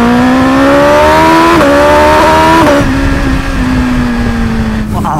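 A 2021 BMW S1000RR sport bike accelerates hard on the autobahn, its loud engine note climbing in pitch through rapid quickshifter gear changes, then settling into a steady high-speed drone with wind noise.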